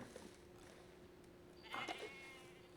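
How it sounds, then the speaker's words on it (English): A goat in Red Dead Redemption 2 bleats once, briefly and fairly faintly, over a steady outdoor background hum. "I hear a goat very close by, or pretty close by."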